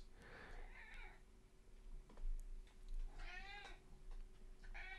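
A domestic cat meows several times indoors, with a short call near the start and longer, drawn-out meows later, fairly close and clear over a quiet room hum.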